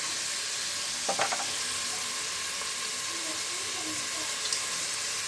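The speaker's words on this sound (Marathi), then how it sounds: "फ्राय करायचं. छान असं परतून घ्यायचं." Food sautés in a hot frying pan, a steady broadband sizzle with a couple of brief scraping stirs and a soft clink, close and even throughout, no talking.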